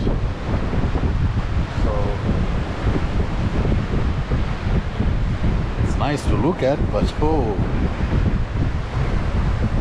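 Waves break on an Atlantic Ocean shore in cold, clear weather while strong wind buffets the microphone in a loud, constant roar, with a person talking over it.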